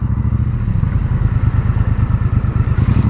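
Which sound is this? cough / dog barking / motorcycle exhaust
motorcycle exhaust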